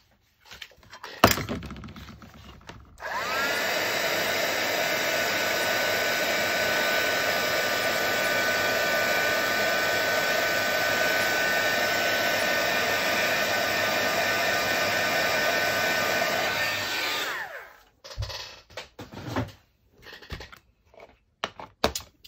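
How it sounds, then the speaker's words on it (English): A heat tool used to melt super fine clear embossing glaze whirs on after a few clunks, blowing in a loud, steady drone with a faint whine for about fourteen seconds before cutting off, followed by scattered handling knocks. "I've got my super fine clear embossing glaze. Quickly do that. Give it some heat."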